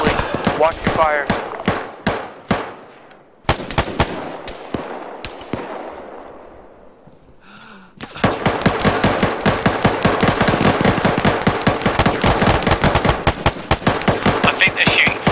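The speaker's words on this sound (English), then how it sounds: "I think they're shooting through the castle wall." Rapid automatic gunfire in the military shooter game Arma 3 rattles in dense bursts near a castle, with a brief lull and fading echo midway before heavy sustained firing resumes, loud and close, with voices talking over it.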